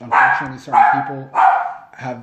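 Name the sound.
dog barking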